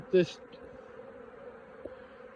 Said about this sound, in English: whether there's enough bees flying around here to sort it all out